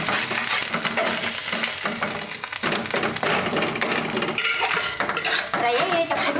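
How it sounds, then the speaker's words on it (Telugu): Food frying and being stirred in a pan over a low gas flame, with continuous loud sizzling and a steady scrape and clatter of the spoon against the pan. "ఇలా ఫ్రై చేస్తూ ఉండాలి."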